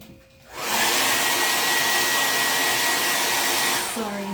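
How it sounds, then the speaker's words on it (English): A hair dryer switches on and blows steadily with a loud, close whooshing whine, running for several seconds before cutting off, used indoors during a wreath-painting craft session with no talking over it. "Blow dryer."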